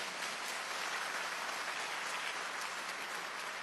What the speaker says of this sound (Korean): 박수 좀 안 칠 겁니까?